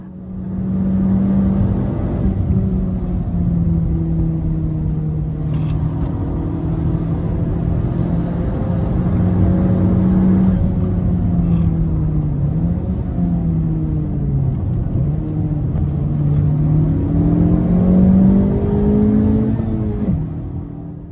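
A Honda Civic FK8 engine at speed on a lap of the Nürburgring Nordschleife, heard from inside the cabin as a loud, continuous droning roar that rises and falls with gear changes and throttle.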